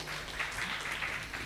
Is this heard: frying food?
no